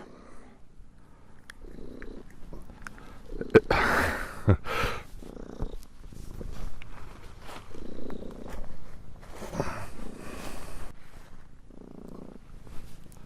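A cat purrs steadily up close in rhythmic pulses, with occasional rustling and soft thumps breaking through.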